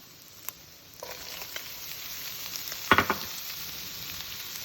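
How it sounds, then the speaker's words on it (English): Onion is dropped into a pan holding browned bits for a frittata. A quiet background rises into a steady sizzle, with a burst of louder crackling and stirring clatter near the middle and no talking. "Now I'm going to dump in the onion."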